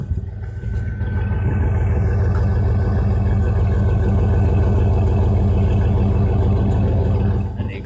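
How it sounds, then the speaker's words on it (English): A 1999 Dodge Durango idles after a cold start on a 30-degree morning, its exhaust giving a steady low droning rumble that holds evenly for several seconds before easing off. "And the exhaust, nothing spectacular, but I like the sound of it."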